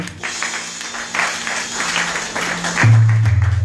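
A church congregation claps loudly and steadily in a sustained wave of applause, with a low droning tone entering near the end.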